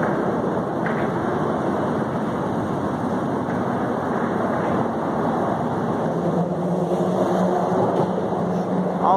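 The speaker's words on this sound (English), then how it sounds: "You can hear the car traffic going over us." Car traffic rolls across a bridge overhead in downtown Chicago, a continuous low rumble heard from underneath with no break and no voices.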